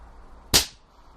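A slingshot fired after drawing back the band, giving a single sharp snap-crack that decays quickly, alone against a quiet background.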